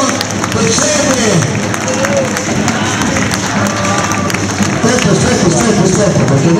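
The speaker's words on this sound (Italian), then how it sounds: "Vi facciamo un applauso per Cedere." A crowd at a castle contest in Premilcuore applauds and cheers the Cedere team, steady dense clapping mixed with babble and an announcer's voice over it.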